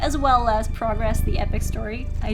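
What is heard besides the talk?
No everyday noises stand out.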